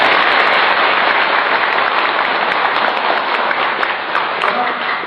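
A live audience at an Indonesian Naqsyabandiyah Sufi religious gathering breaks into loud, dense applause that holds steady for several seconds with no voices over it.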